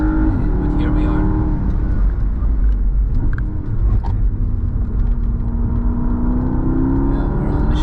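A 680 hp Porsche Panamera Turbo S E-Hybrid accelerates while sliding sideways at the Nürburgring, its engine a loud, steady, rising roar heard from close by, with talk faintly beneath it.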